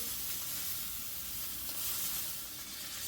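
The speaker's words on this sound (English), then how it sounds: "We're going to do this until all the steak are brown on all sides." Pieces of steak searing in a hot pan for a wild game calzone give off a loud, continuous hissing sizzle that stays even and unbroken for the full stretch, with no voices.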